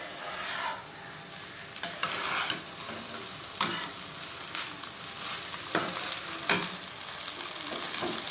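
Jaggery sweet rice stirred in a pan over high heat, a steady frying sizzle broken by repeated scraping strokes of the spoon, close and moderately loud with no talking.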